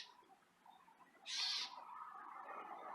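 A single bird call rings out in a garden, one bright, clear burst lasting about half a second and standing well above quiet outdoor background noise.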